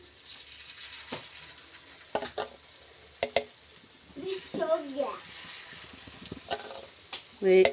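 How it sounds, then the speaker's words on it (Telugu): Bottle gourd batter bullets fry in hot oil with a soft, steady sizzle, broken by occasional stirring clinks while someone talks intermittently nearby. "ఇవైతే తొందరగా ఫ్రై అయిపోతాయి."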